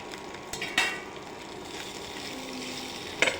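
Potato and pointed gourd sizzle in hot oil in a home kitchen, a steady low crackle broken by a few sharp utensil clinks against the pan.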